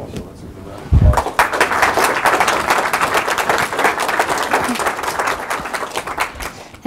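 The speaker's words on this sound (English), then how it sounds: "So let's give a round of applause" An audience breaks into sustained applause, many hands clapping steadily at moderate distance for several seconds.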